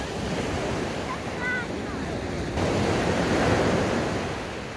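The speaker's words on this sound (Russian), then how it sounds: "волны уже поменьше" Sea waves break on the sandy beach at Alanya, Turkey in the morning, a continuous near rush of surf swelling louder toward the end, with wind buffeting the microphone.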